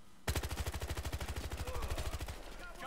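A long, rapid automatic burst of video game gunfire hammers out as evenly spaced, loud shots for over two and a half seconds before cutting off.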